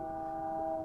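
A passing train's horn blares as a steady, loud multi-tone chord that holds through the whole moment over low rumble, picked up through a commentator's microphone from a nearby track.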